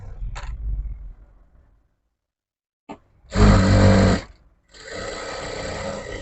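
A sewing machine stitching a blouse runs in two close bursts after a muffled thump and a stretch of silence. The first burst is loud and about a second long, and the second is a longer, steadier run.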